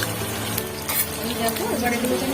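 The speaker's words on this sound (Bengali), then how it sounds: "আলুগুলো আমি এর মধ্যে আস্তে আস্তে দিয়ে দিলাম যেহেতু তেলটা গরম হয়ে গেছে" Potato pieces sizzle in hot oil in a pan, a dense close crackle with soft stirring sounds, and a voice is briefly faintly present.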